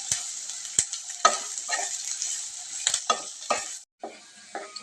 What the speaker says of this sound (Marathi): हा आपल्याला चांगला ब्राऊन होईपर्यंत तळून घ्यायचा आहे